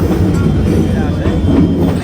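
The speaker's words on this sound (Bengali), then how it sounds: "ঢাকার ট্রেন যাচ্ছে ইঞ্জিন ঘোরাচ্ছে" A train engine shunting in Dhaka rumbles loudly and close, a dense low mechanical drone with faint rolling clatter throughout.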